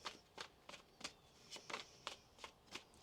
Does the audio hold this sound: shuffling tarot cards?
yes